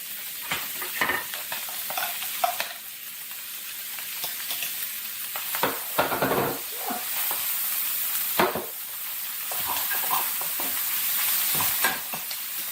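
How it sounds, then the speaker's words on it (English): Chopped onions frying in butter with browning beef in a pan for old-fashioned Salisbury steak, giving a steady close sizzle broken by repeated scrapes and stirs of a utensil. "Let the onions cook for a little while."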